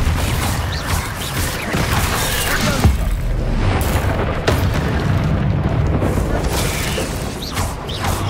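Bombarda spell explosions in Hogwarts Legacy, dense booming bursts and mechanical crackles layered continuously over a loud, rumbling battle mix with repeated heavier thumps.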